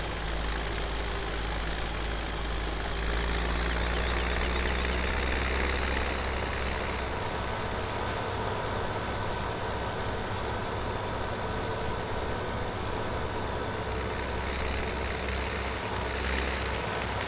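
A tractor engine in Farming Simulator 17 drones steadily and loud throughout, a continuous low rumble with a slight knocking pulse, running alone without talk.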